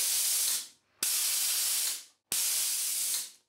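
Rodless pneumatic cylinder carriage driven at full air pressure, three loud bursts of rushing air hiss, each cut off sharply with a short knock, then tailing away, alone without talk.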